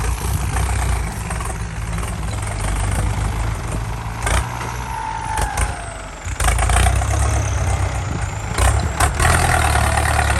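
A motorbike engine runs steadily through its loud exhaust pipe, with a rough, continuous drone that dips briefly near the middle before resuming at full strength.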